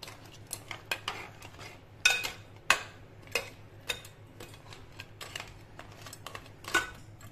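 Crab masala gravy stirred in a pot after pressure cooking, heard as light metallic scrapes and clinks of a spoon against the vessel in an uneven rhythm, close and fairly quiet.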